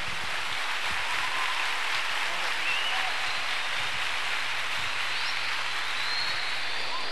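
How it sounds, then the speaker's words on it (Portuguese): An indoor crowd applauds steadily at a children's jiu-jitsu tournament in a gymnasium, a broad even wash of many hands with a low hum running beneath it. "Recebe o nosso aplauso, Senhor,"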